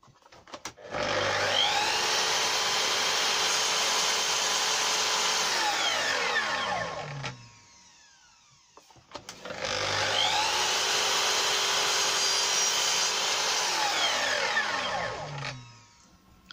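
A power saw cuts wooden door beading during a rotted door frame and panel repair, two loud whining cuts each spinning up, biting through the wood for several seconds, then winding down.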